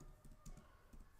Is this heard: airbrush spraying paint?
no